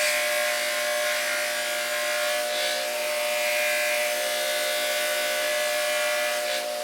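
A charged buffing wheel spins against aluminum being polished to a mirror finish, giving a steady high whine with a rough rubbing hiss that swells and eases as the part is worked.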